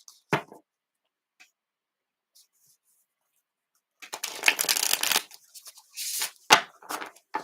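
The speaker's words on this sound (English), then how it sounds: "A bit more shuffling, and then we'll choose one if one doesn't jump out." Tarot cards are shuffled by hand at a table in Cornwall, a sharp riffle first, then a long pause, then bursts of rapid papery riffling and flicking near the microphone, with no talk.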